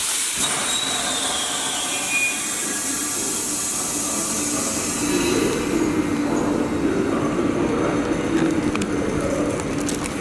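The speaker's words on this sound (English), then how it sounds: "I think this train is going to connect." A train moves along the railway in Schwäbisch Hall, Germany, with a loud, steady roar, hissing brakes and rumbling wheels, very close and continuous throughout.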